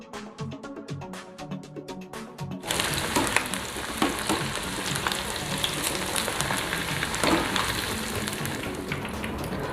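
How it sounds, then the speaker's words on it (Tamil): Chicken pieces deep-frying in hot oil in a pan, a loud, dense sizzle that bursts on after a few seconds of lighter crackle and keeps bubbling steadily throughout. "இப்போ வந்து ஒரு பேனில் வந்துட்டு ஆயிலை நல்லா ஹீட் பண்ணிவிட்டு ஒரு சிக்கனாக போட்டு நம்ம அழகாக டீப் ஃப்ரை பண்ணி"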